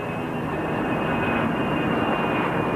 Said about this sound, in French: Et quand on aura la vitesse, voilà, c'est en train de se faire, on décolle.